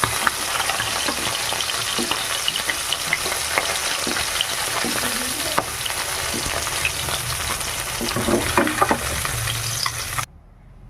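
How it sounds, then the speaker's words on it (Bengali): Bata fish frying in hot oil, a steady loud sizzle with occasional stirring scrapes and pops, running continuously before cutting off near the end. "মাছগুলো ভেজে নিয়েছি এবার উঠে নেবো"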